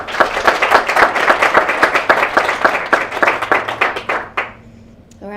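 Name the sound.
audience applause at awards presentation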